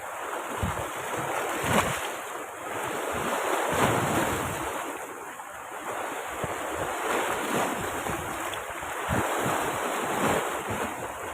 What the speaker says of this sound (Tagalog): malakas ng alon ng tubig